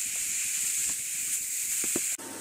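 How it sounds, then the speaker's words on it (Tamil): Grated carrot sizzles in hot ghee in a pan while cooking carrot halwa, a steady close frying hiss throughout with a few soft stirring knocks near the end. "இது நெய்யிலேயே நல்லா வதங்கட்டும் கேரட்டு."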